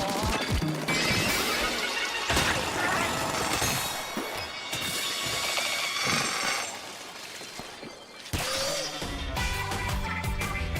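A character grinds along a rail in Splatoon, a loud continuous metallic scraping whir layered with busy game music and effects throughout.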